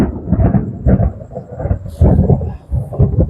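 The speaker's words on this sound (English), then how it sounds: "Sorry about the thunder." Deep thunder rolls in repeated loud, close rumbling waves outdoors beside garden raised beds, with a faint voice at moments.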